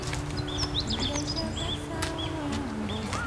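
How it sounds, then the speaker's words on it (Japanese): Wild birds call in a natural outdoor setting, several short chirps and whistled notes scattered near and far over a steady background, with people talking quietly beneath. "鳥の声、いつもの地点に来たらちょっと聞こえ始めましたよ"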